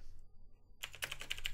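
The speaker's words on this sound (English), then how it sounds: "So let's go ahead and type in this URL" A quiet pause gives way to a quick run of soft, close keystrokes as someone types a URL on a computer keyboard.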